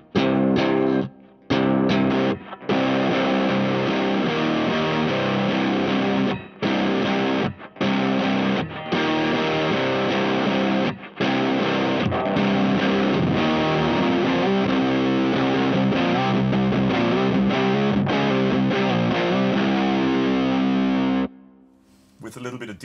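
An electric guitar with an aluminium neck plays through a Berry Pedals PHAT two-channel RAT-style distortion pedal with 3-band EQ, giving sustained, close, fairly loud chords broken by a few brief pauses, with no talking over it.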